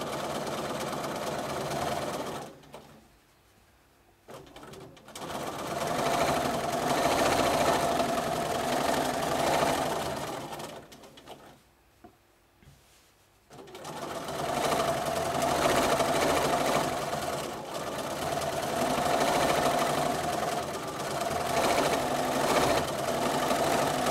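A sewing machine with a stitch regulator runs in rapid, even bursts while free motion quilting spirals, stopping twice for short pauses before resuming its steady, close mechanical whir.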